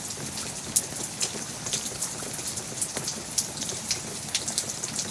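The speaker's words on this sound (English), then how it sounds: "Just rain." Steady rain falling on a surface, a dense, even patter with occasional louder drops, continuous and alone with no voices.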